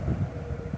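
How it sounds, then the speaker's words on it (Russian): Strong wind buffets the microphone outdoors on a very windy day by a pond, a steady low rumbling roar filling the whole stretch with no other clear sounds. "Сегодня очень-очень ветреный день, поэтому будет, наверное, какой-то фоновый шум"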